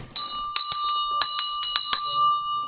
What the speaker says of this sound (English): Oh, I didn't even ring the bell.